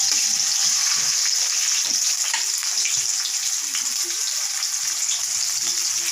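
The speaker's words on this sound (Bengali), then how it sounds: "এখন তেলের মধ্যে আমি জিরা দিয়ে দিচ্ছি, টমেটো, অল্প আদা আর জিরা বাটা" Cumin, tomato and ginger fry in hot oil, producing a loud, continuous close-up sizzle with a bright, steady crackle and occasional faint stirring clicks, no voices.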